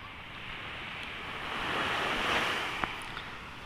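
Sea waves wash steadily onto a clear, non-rocky beach at a resort, a broad continuous surf roar swelling slightly midway, with wind noise on the microphone and no talking.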